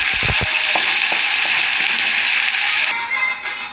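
Tomatoes tipped into a hot pan with garlic and ginger for tomato rice, a brief clatter followed by a steady, loud close-up sizzle and frying hiss that carries on alone.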